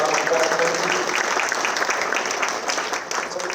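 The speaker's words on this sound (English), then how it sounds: "Can we get a round of applause?" Sustained applause from an audience at an alumni awards ceremony honoring an honoree, a dense, steady wash of many hands clapping, loud and close, tapering slightly toward the end.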